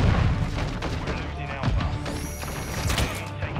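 Gunfire from a Chimera gun in a Call of Duty match, dense booming shots and thuds layered over continuous game noise and chatter, with a voice talking throughout.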